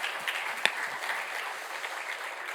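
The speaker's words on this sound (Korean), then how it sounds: "우리 격려 박수 한번 보내시겠습니다." A congregation at a Saturday dawn church service gives a steady round of encouraging applause, moderately loud and sustained, with one sharper clap standing out early.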